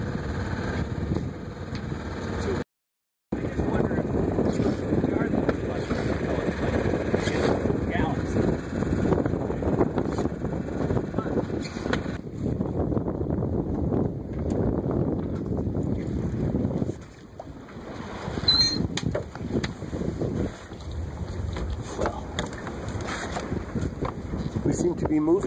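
A sailboat moving under wind power, with a steady rush of wind and water noise buffeting close to the microphone throughout, briefly cutting out once, while people talk over it.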